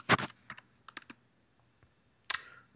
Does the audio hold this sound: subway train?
no